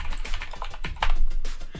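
A command is being typed on a computer keyboard during a Ruckus IPv6 router configuration session, with a quick, uneven run of close, crisp key clicks and a heavier keystroke near the end.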